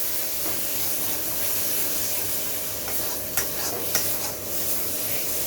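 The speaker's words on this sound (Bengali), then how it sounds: "মশলাটা আমার ভাজা হয়ে গিয়েছে এখন।" Spice paste for aloo fulkopi frying in a pan, a steady hissing sizzle with occasional spatula scrapes and a couple of sharper utensil clinks near the end, close up with no voices.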